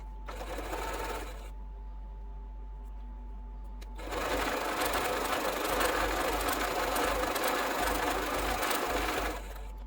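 A sewing machine runs in two bursts, first briefly then steadily for several seconds, stitching a quarter-inch seam to join quilt strip sets, with a fast mechanical whir and a low hum between.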